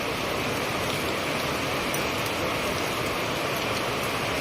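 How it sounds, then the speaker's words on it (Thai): Rain falls steadily at a PTT highway fuel station in Pak Chong, a constant, even hiss with no talking. "ฝนตกแดดออกครับพี่น้องนะครับ"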